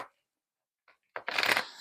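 Tarot cards riffled in a quick shuffle, a brief flutter and then a dense burst of papery snaps building up near and loud, with no voices.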